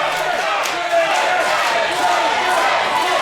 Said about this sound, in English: the crowd's very conflicted here between Joel Bateman and Twisted J